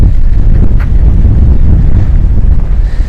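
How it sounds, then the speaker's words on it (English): Loud, steady wind buffeting the microphone on a coast by the sea, a continuous low rumbling roar with no pauses. "it's quite a windy day"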